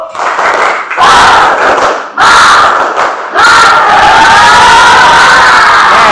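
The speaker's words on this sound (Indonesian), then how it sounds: "sebelum ditutup tepuk semangat dulu" A school class shouts a rhythmic clapping chant together, loud bursts of children's voices broken by short pauses, then a sustained group shout at the end.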